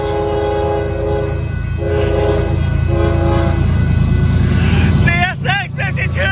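A northbound CSX auto train rumbles past at a road crossing in Austin, Texas, its steady rolling roar joined by repeated loud blasts of the multi-tone horn, with excited voices and whoops near the end.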